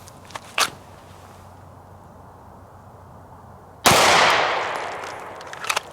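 Single sharp gunshot fired from a handgun fitted with Trijicon HD XR night sights, a loud broadband crack followed by a sustained roaring tail, preceded by a faint click and quiet background.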